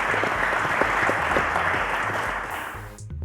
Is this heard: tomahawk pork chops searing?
no